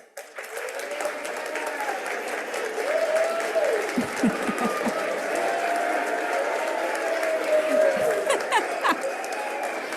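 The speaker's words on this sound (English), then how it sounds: "please stand for a round of applause" Sustained applause from an audience of families, friends and mentors at an annual Green Schools event, steady and moderately loud throughout, with light chuckling, murmured voices and a brief thank-you spoken over it.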